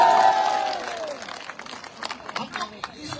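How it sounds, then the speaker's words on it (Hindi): Scattered claps from an audience at a political speech gathering in Arunachal Pradesh, sounding as sparse sharp bursts that follow a fading voice and mix with crowd murmur and talk. "हाँ ताली जोर से बजाइए एक बार।"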